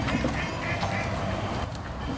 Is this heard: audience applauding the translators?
no